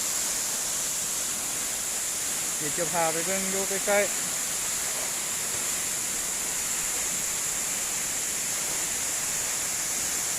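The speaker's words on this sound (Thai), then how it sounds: "นครหลวงเวียงจันทร์เมืองหลวงของประเทศลาว มีน้ำตกที่สวยงามแบบนี้เนาะ" Steady waterfall roar at Tat Yot Suang near Ban Tham, Vientiane, Laos, a broad continuous rush of falling water filling the scene, with a brief voice speaking over it partway through.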